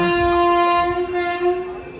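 A train at a railway station sounds its horn in one long, loud, steady blast close by, over the low rumble of the rail cars.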